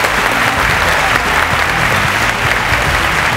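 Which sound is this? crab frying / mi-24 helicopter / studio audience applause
studio audience applause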